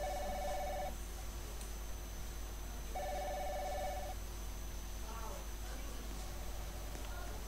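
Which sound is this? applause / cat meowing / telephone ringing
telephone ringing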